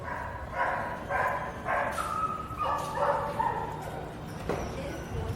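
Several dogs at a kennel club racetrack yip and bark in short bursts over a noisy background, with whimpers mixed in, at moderate distance.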